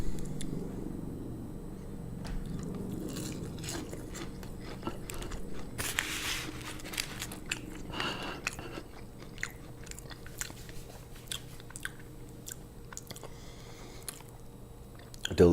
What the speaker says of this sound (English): So let's have an onion ring. I'm gonna go ranch.